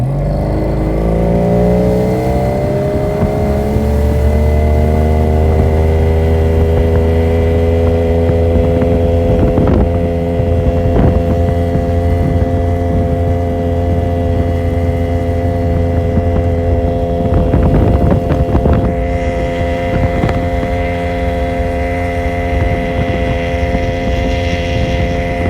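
A Tohatsu 50 outboard motor on a small boat, an Addictor Bambino 333, opens to full throttle, the engine note climbing steadily then holding a loud, sustained high drone with water rush, no talking.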